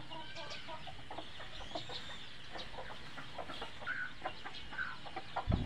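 Chickens cluck in a roomy coop with repeated short, close calls in an irregular rhythm, over a low background rumble.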